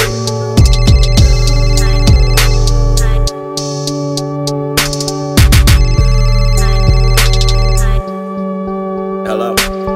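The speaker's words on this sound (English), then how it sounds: "Phone rang twice, but I missed both calls." A phone ringtone woven into a hip-hop track, repeating bursts of bright ringing tones over heavy bass and beat that drop out and return across the passage.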